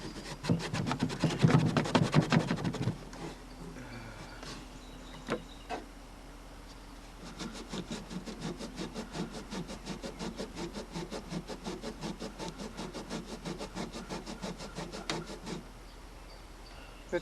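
Scrubbing the case of a 1962 Zenith KPS80L portable record changer, a dense scratchy rubbing in quick repeated strokes, loud at first, then a pause, then a long steady run of scrubbing.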